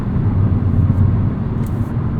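Steady, loud engine and road rumble from a 2022 Hyundai Kona N with an electronic front differential as it powers out of a corner, a continuous low drone with no voices.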